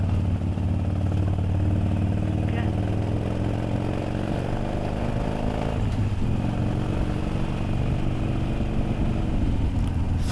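A Harley-Davidson Superlow motorcycle engine works in a lower gear up a steep mountain road, a steady, loud, continuous drone with a little mechanical clatter running through the whole stretch.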